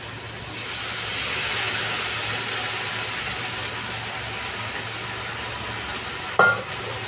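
Cumin, ginger and garlic paste hitting hot oil in a pan while cooking a goat meat and potato curry: a steady, loud broadband sizzle holding throughout, with a brief clatter near the end.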